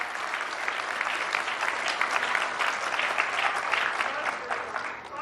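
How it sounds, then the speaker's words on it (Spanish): Crowd at a Mexican public clinic opening event applauding, a steady mass of clapping that carries on evenly, moderately loud and slightly distant. "Un aplauso al presidente López Obrador"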